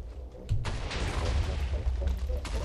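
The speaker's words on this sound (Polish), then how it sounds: "Zobaczcie, że to jest naprawdę spory wybuch." A large explosion in Minecraft with an Angry Birds mod, a dense burst of booming, crackling blasts that rumble on continuously for a couple of seconds.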